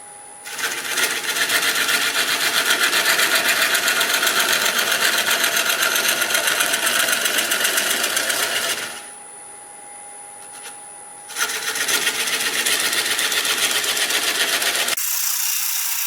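Wood lathe turning red oak as a recessed tenon is cut into a platter: a loud, steady high whine with dense scraping. It drops away for about two seconds midway, then resumes.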